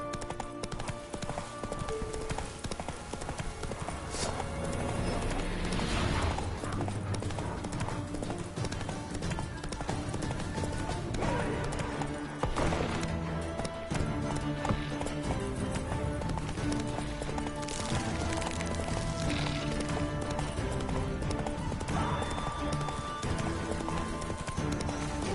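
Roach, the horse in The Witcher 3, gallops with steady, continuous hoofbeats that stay close and loud over a dense game soundtrack, with an occasional whinny.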